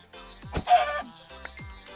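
A few short, clipped chicken clucks from Minecraft with a synthetic, game-like tone, close and loud, followed by quieter clucks.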